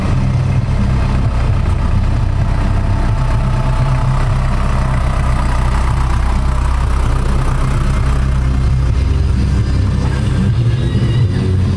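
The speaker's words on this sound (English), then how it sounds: "Fire engine." Magirus Deutz fire engine with an air-cooled diesel idling steadily at a campground, a loud continuous low rumble with an even throb that holds throughout.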